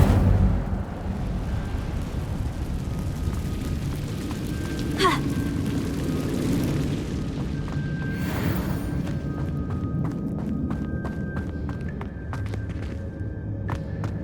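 A fire spell is cast in the Hogwarts Legacy video game inside a cave, giving a loud, continuous roaring rush with a sharp crackling burst partway through, and a brief bright whoosh follows.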